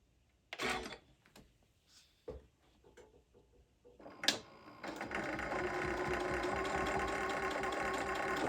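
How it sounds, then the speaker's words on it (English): After a few scattered clicks and bumps, a sewing machine starts up and runs steadily, stitching a zipper pouch with a fast, even, close mechanical whir. "I'm just going to sew these up."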